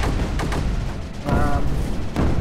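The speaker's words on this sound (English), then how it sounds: "These cannons are definitely taking a hit right now." Dense booming and rumbling impacts hit cannons in the strategy game Creeper World 4, a continuous loud barrage with a voice faintly under it.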